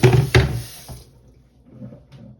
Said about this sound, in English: So I'm going to rinse my belna or my rolling pin.